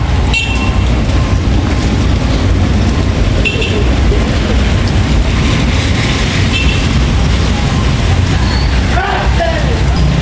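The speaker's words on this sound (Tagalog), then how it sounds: "Lumakas ang ulan." Steady, dense rain roaring continuously at close range, with a low rumble underneath and faint voices now and then.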